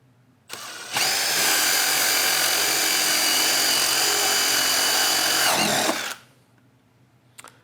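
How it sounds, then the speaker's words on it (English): A Milwaukee drill with a hole saw cuts through PVC: one loud, steady high-pitched whine that holds for about five seconds, then stops abruptly, with a faint click afterward. "Let's see if we drill straight on or if there's a difference."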